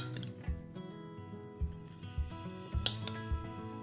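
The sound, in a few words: scooping apple pie filling into bowls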